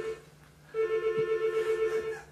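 A telephone rings during a television football interview, giving a steady electronic ringtone with a pulsing warble that starts after a brief quiet moment and carries on loudly.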